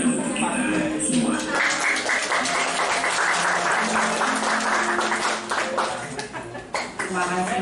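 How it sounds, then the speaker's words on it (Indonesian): Adult audience at a school session on positive school culture breaks into steady, dense applause, with voices and chatter mixed in; the clapping thins and fades toward the close. "Kasih tepuk tangan untuk kita semua"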